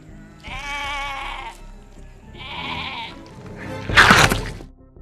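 Sheep bleating on a farm in a zombie film: several loud, wavering bleats in a row, with a harsher, louder cry near the end.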